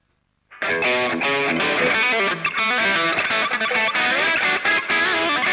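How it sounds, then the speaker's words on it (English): Loud, sustained distorted electric guitar playing a riff with dense, gritty harmonics, continuous after a brief silent start. "Maybe add a little bit more distortion."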